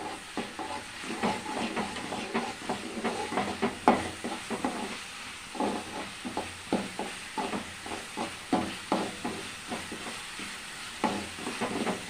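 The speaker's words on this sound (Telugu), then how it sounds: "ఒక 5 మినిట్స్ ఇది వేగనివ్వాలి." Telugu-style fish curry fries in a pan before tamarind juice goes in, a close, continuous sizzle broken by frequent rhythmic stirring scrapes, busy and fairly loud with no one speaking.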